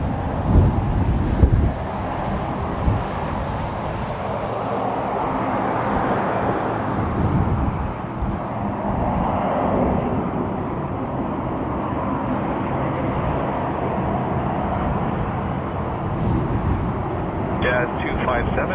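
Cold wind blowing across the open ground at Toronto Pearson Airport, a steady loud roar and buffeting against the microphone throughout, with a brief louder gust near the start.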